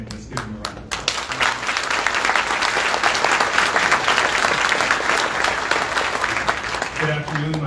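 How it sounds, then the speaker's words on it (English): Applause from a luncheon audience at an Urban League diversity and inclusion event, dense clapping that starts up after a brief voice and carries on steadily at close range, with a voice returning at the end. "So again, let's give them a round of applause."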